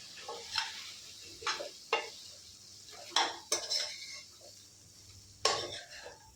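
Potato and cauliflower roasting with masala in a pan, with a soft sizzle beneath occasional sharp clinks and scrapes of a spatula against the metal, fairly quiet and close.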